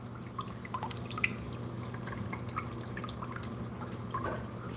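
Water drips steadily through a thin siphon line during drip acclimation of fish into an aquarium setup, a quiet run of small close drops over a low constant hum.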